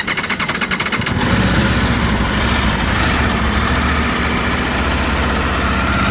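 A 2026 Aprilia RSV4 Factory sportbike engine catches and settles into a loud, steady, throbbing idle, close up, after a brief burst of rapid pulses at the start.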